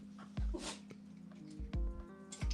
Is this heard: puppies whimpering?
yes